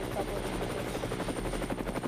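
A helicopter filming a sailing race off the New Zealand coast gives a loud, continuous rotor chop with a fast, even thudding pulse that stays close and steady throughout.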